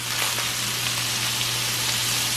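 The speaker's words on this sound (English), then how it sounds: "now I'm going to add my garlic that I mashed in my pilon" Mashed garlic dropping into a pan of frying meat for lasagna, giving a steady, close broadband sizzle that holds evenly throughout with no talking.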